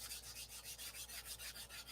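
Hand sanding on a P-47 flap with sandpaper: quick, regular back-and-forth rasping strokes, about six per second, close and fairly faint, with no talk.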